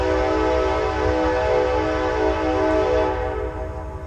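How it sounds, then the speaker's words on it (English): Loud trains pass close by in an urban Chinatown area, giving a sustained tonal horn-like blare over a heavy rumble that eases slightly toward the end. "I need to get away from these trains. They're extremely loud"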